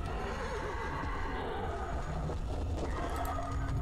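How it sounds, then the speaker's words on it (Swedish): A horse neighs in the horror video game Dreadout: Keepers of the Dark, a drawn-out wavering whinny over a steady low ambient rumble, moderately loud and alone without talk. "Det är en häst."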